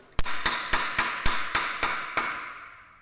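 Power chisel striking hard wood during a carving demonstration: eight sharp, evenly spaced impacts ring out close and loud, each with a short bright decay, with no talking.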